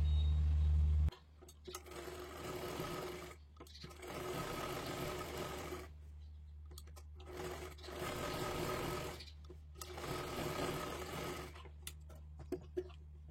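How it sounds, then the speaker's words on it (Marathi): A sewing machine stitches a sleeve in steady bursts, a close mechanical whirr that starts and stops several times with short pauses between runs, with faint handling sounds. "इकडून सुद्धा हे शिलाई करून घ्यायचं आहे"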